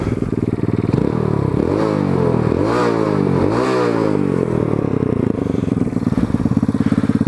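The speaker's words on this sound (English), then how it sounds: "That's what the exhaust sound like." Exhaust of a Venom X22 motorcycle, also sold as the Xpro X16, revs up and falls back in several loud, close throttle blips over a steady idle.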